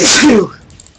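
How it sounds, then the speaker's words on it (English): A single loud, close sneeze, sharp burst that quickly fades into near silence. "Oh, I need to sneeze."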